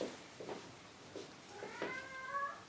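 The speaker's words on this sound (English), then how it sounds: "Shh! Noisy cat." Several meows from a domestic cat indoors among potted orchids, short calls at first, then a longer drawn-out yowl near the end, fairly close and clear.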